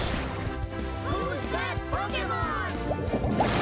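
Water Pulse from Pokemon Shining Pearl plays as quick bubbling, gurgling liquid blips in a short burst, with a voice talking over it.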